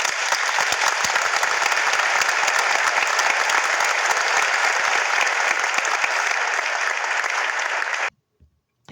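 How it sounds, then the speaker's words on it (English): An audience claps loudly and steadily for about eight seconds before the applause cuts off abruptly into near silence. "Come on, clap your hand if you want to hear it again."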